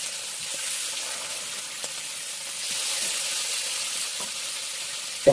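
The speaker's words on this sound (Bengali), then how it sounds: "তেল গরম হয়ে গেছে, এখন মাছ দেবো। মাছ ছেড়ে দিলাম" Fish, a batch of four bata fish, frying in a small amount of hot oil in a home kitchen, giving a steady close sizzle with a few soft clinks and a sharper bump at the end.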